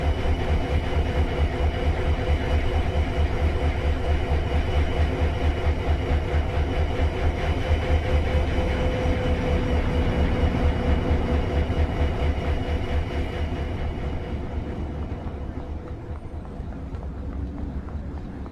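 A Metrolink train on the San Bernardino Line in Train Sim World 5 runs with a steady, loud rumbling engine and rhythmic wheel clatter, then eases and fades toward the end; no talking.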